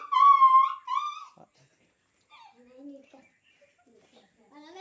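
A voice imitates a dog, giving a couple of whining, howl-like yelps up close, followed by quieter, softer yelping sounds.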